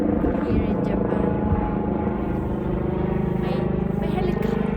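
A helicopter drones steadily overhead with a constant engine rumble and rotor buzz for the whole stretch, while someone talks over it.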